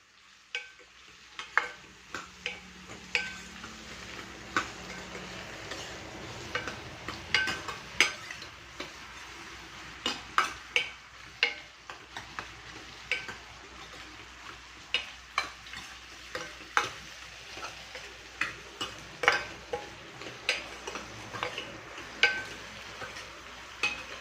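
Gongura leaves sauté in hot oil with a soft, steady sizzle, punctuated by frequent sharp ticks and scrapes of a spoon stirring against the pan.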